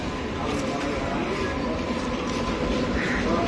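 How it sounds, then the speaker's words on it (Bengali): Sealdah–Lalgola passenger train pulling into a station, a loud, steady rumble of wheels and carriages filling the scene with no break. "ঢুকছে শিয়ালদা লালগোলা প্যাসেঞ্জার"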